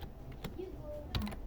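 Keystrokes on a computer keyboard entering a terminal command, a few soft clicks spread across a short moment at low level, with faint voice sounds in the background.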